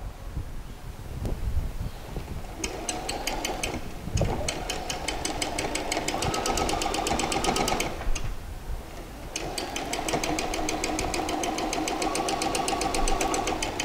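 A sewing machine stitches fabric ends together while a pair of shorts is being made. It runs in two long bursts of rapid, even needle clatter, with a brief pause around eight seconds and a soft start.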